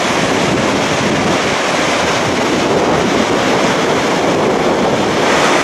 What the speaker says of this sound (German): Aber wollte euch auch eben hier diesen Wasserlauf noch zeigen.